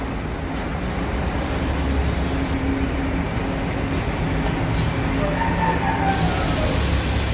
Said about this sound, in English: And the subway.